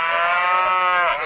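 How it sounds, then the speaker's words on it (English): Cattle in an open field moo along with a trombone played nearby, a loud, sustained, brassy lowing that blends with the horn's tone, with no talking. "This guy's sitting in the field playing trombone and the cattle are like participating."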